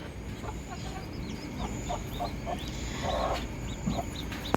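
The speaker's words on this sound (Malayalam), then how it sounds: "നമ്മുടെ കോഴിക്കുഞ്ഞിൻ്റെ സൗണ്ട് കേൾക്കുന്നുണ്ട്" Faint, high chirps from newly hatched chicks in a coop sound repeatedly over a steady background hum, with occasional soft clucking nearby.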